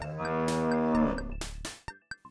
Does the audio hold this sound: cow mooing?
yes